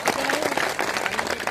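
An audience claps at a political gathering, a short burst of steady, dense applause from a crowd, close and fairly loud throughout.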